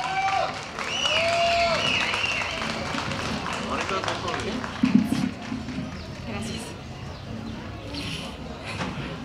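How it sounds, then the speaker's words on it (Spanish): Audience at a spring poetry event applauding and cheering for a poet, a steady wash of clapping that peaks briefly midway, with voices talking over it. "Ruido para Valeria Ramos, por favor"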